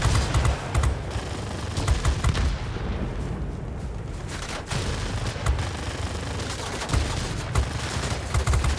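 Rapid bursts of heavy automatic aircraft cannon fire in World of Warplanes 2.0, loud and close, repeating in clusters with short pauses between volleys.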